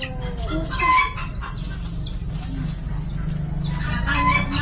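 Chickens cluck repeatedly in a busy home yard, several birds calling over a low background rumble, with brief higher squawks scattered throughout.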